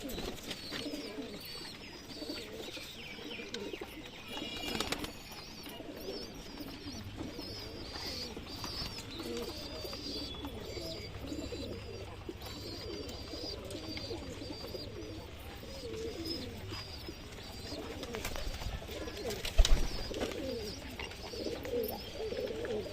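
Pigeons coo repeatedly in soft, rolling phrases, fairly close, in a breeding loft, over a faint background hum, with an occasional flutter.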